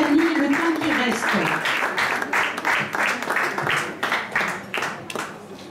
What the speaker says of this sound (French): On applaudit bien fort Isabelle